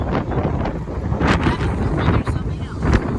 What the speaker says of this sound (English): I'm sorry about the wind. It's a whole lot of wind.